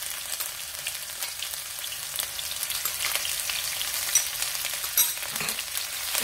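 A paste for dosa masala fries in a pan with a steady close hiss and occasional soft stirring clicks.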